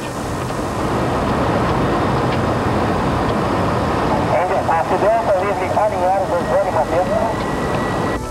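A helicopter flies over Rio de Janeiro along an approach route to Santos Dumont airport, its engine and rotor giving a loud steady roar heard from inside the cabin, with a voice talking over it throughout.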